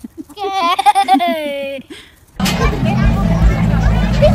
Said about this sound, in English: That was sheep. That was sheep.